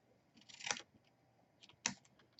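Scissors snipping through paper boxes on a handmade advent calendar book, two short crisp cuts about a second apart, close and quiet with no talking.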